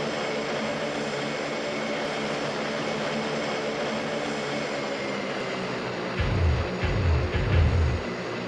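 A propeller airliner's engine drones steadily in a flight video game, a constant whirring roar. Near the end, a few low thumps rumble, like the plane touching down on rough ground.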